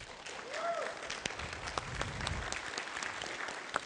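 A conference audience applauds steadily and loudly throughout, a dense wash of many hands clapping at once with scattered sharper claps standing out.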